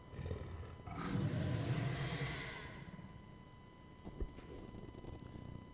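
A deep creature roar swells up and fades over about two seconds, followed by quieter rumbling and a soft thud.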